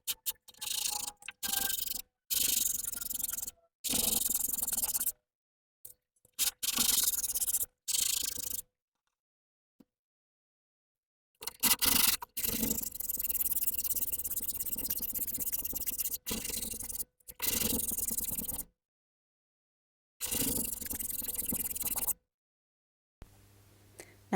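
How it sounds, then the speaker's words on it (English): Hand sanding back paint on an antique wardrobe, close rasping strokes in repeated bursts separated by silent gaps. "So now I can sand it back."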